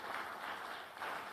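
Audience at a steel-themed awards finale breaks into applause, a short burst of crowd clapping that swells, dips briefly and rises again, moderately distant and fairly soft.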